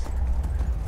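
Horse hooves clip-clopping at a steady trot while riding up a mountain in the video game Skyrim, a continuous close rhythm of hoofbeats with no talk over it.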